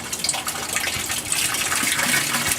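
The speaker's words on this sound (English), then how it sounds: "you can hear that we are draining" An aquaponics tote drains through a siphon, producing a steady close rush of gushing, splashing water that swells slightly over a couple of seconds.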